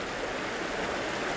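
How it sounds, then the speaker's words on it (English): A waterfall in an outdoor landscape setting makes a continuous, even rush of falling water, a dense, steady hiss that fills the background without any break. "I found a lovely composition now with this waterfall in the background."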